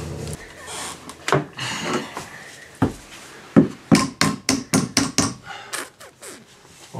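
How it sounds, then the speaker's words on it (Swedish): Forged nails are hammered into a ceiling: a quick series of sharp, close blows in an uneven rhythm, mixed with some speech. "Ska hålla på och slår i såna smidda spikar i taket."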